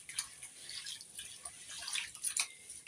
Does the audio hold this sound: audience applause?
no